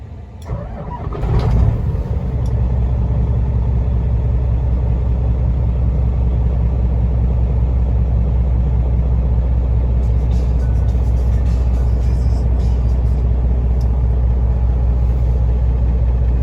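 2014 Peterbilt 389 glider with a 12.7 Detroit diesel, starting with a short crank and catch, then settling into a steady, deep, loud idle rumble that holds evenly to the end.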